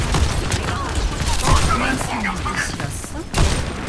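Sniper gunfire from an Overwatch 2 match sounds as several sharp shots and thuds over a dense game mix, with excited commentary running throughout.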